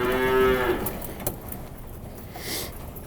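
A cow gives one loud, close moo in a barn on a farm in winter, followed by shuffling and clattering barn noises.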